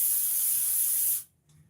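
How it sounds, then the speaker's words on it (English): A short hissing burst of cooking spray from an aerosol can lasts about a second, then cuts off abruptly into near silence. "That's just cooking spray."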